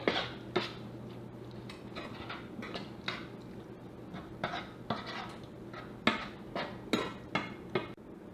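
A utensil repeatedly taps and scrapes against a pot while tomatoes simmering for carne guisada are broken up, giving irregular clinks and knocks over a low steady hum, with no talking.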